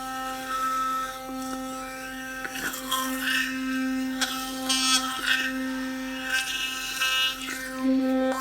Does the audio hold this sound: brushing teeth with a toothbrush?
yes